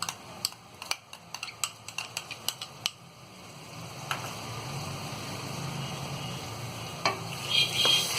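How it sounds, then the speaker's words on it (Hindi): Steady low sizzling of ginger garlic paste frying in a pan, preceded by a series of sharp clinks and scrapes of a utensil stirring against metal. "इसे हम हल्का सा भून लेंगे"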